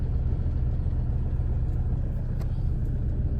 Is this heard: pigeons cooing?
no